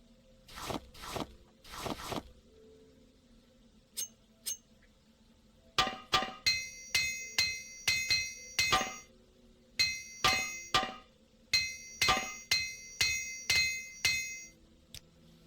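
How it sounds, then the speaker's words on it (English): An armorer's hammer repairs armor in the video game Morrowind with rapid metallic clinks and clanks, struck in quick bursts of four or five blows separated by short pauses, clear and close. "we used up an armorer's hammer in order to boost up our armor skill"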